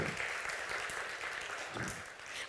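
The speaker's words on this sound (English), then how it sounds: "can we get a round of applause for that amazing speech?" An audience at a youth leadership program applauds a speech with dense, steady clapping that fills the whole moment, close and continuous with no voices over it.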